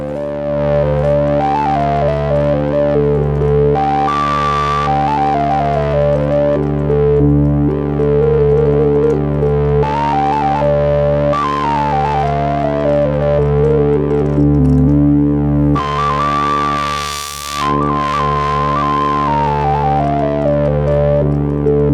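Synthesizer in a studio playing a bright, steady electronic tone with stepping, chirpy melodic lines over a sustained low drone, loud and unbroken, reminiscent of a Commodore 64 kung fu or karate game.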